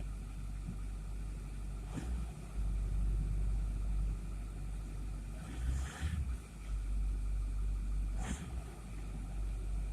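A 6.4L Powerstroke diesel truck idles after a cold start with a deep, steady low rumble, swelling briefly a few times as it warms up.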